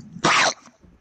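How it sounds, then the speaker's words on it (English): A single sharp sneeze, loud and close, a short burst followed by a faint trailing breath and quiet. "Sneezed."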